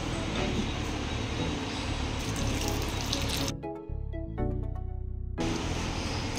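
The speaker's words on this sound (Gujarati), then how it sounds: "તેમાં આપણે પાણી લઈ લેશું." Water poured into a bowl in a home kitchen, a steady splashing gush that runs loud and unbroken for several seconds, dropping out briefly before resuming.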